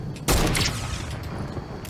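Gunfire in Fortnite, a sudden loud burst of shots that rings out briefly, then fades into the game's background.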